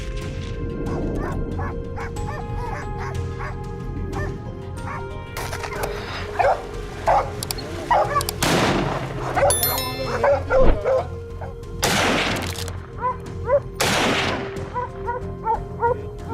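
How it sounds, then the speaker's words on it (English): Hunting dogs chasing boars in Brazil's Pantanal bark, yip and whimper in sharp, repeated bursts, some close and loud, others farther off, over a steady outdoor background. "our hunting dogs tore through trees and brush. Their growls were sharp, ferocious."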